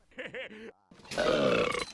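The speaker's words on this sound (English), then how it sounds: "Great use of Barney Gumble's burp from The Simpsons." Barney Gumble's burp from The Simpsons, reused in the SpongeBob movie: a short voiced sound, a brief pause, then one long loud rasping belch up close.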